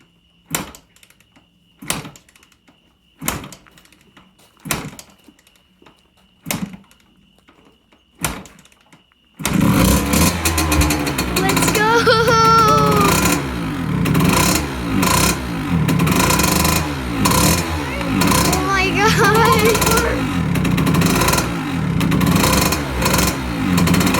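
A KTM 65 motorcycle with a freshly rebuilt top end and the choke on gets a series of evenly spaced kick-start thumps, then catches and runs loudly, its two-stroke engine revving and warbling up close for the rest of the time.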